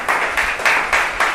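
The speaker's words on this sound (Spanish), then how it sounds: "Un aplauso al Señor." Church congregation applauding during a Spanish-language sermon, a short burst of rhythmic claps in steady beats, moderately loud with no talk over it.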